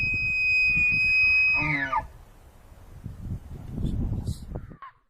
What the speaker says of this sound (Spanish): un alce.